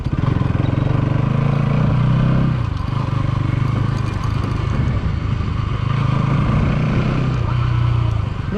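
A Bajaj Pulsar NS 200 motorcycle rides over a dirt road, its engine droning loud and close throughout, easing off briefly midway before picking up again.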